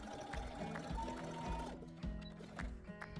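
A sewing machine stitching down a shirt facing runs in short start-stop bursts of mechanical whirring, fairly quiet and close, with small pauses between runs.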